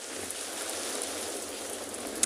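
Steady rain falls at the Stony Point penguin beach on a wet, frontal day, a soft continuous hiss of drops with no voices.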